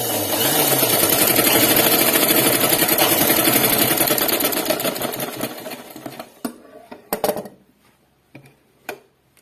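A sewing machine stitches the shoulder seams of a collar-neck dress, running in a loud steady whir for about six seconds, then stopping and giving a few short bursts.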